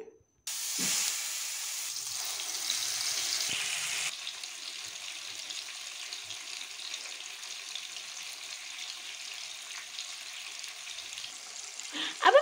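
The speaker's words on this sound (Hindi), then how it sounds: "अब हम फिश को मीडियम फ्लेम पर फ्राई करेंगे" Marinated fish frying dhaba style in hot oil over a medium flame, a steady hissing sizzle that is louder for the first few seconds, then settles lower, with a small clatter at the end.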